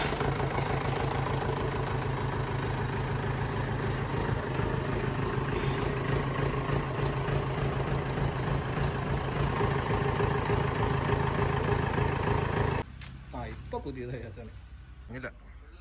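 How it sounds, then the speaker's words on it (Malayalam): A Mahindra 4x4 jeep engine, freshly reworked, runs at a steady idle with a rough, even chugging, close and loud, then cuts off near the end, leaving quieter background sounds. "എൻജിൻ വർക്ക് കംപ്ലീറ്റ് ചെയ്ത് നമ്മൾ സ്റ്റാർട്ട് ചെയ്യാൻ പോവാണ്."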